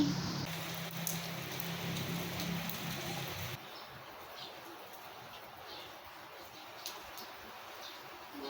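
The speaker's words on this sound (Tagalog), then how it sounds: "Ulan, bugnaw-bugnaw ang ulan." Soft, steady patter of rain falling on surfaces, a quiet continuous hiss with a few faint drip-like ticks, heard from a distance.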